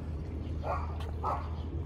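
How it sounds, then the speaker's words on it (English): A dog barking a couple of times somewhat distant and faint, two short yips over a steady low hum in a home setting. "there goes my dog barking."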